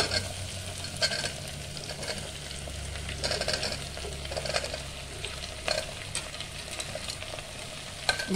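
Potatoes for a sweet gourd karela curry sizzle in a hot pan while being stirred, a constant close frying hiss broken by irregular scraping strokes.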